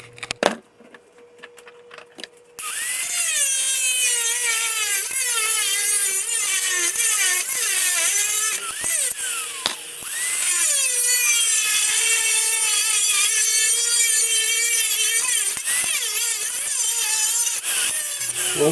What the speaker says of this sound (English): What I did is just grab a hole saw for, this is a 2 1/8 inch bit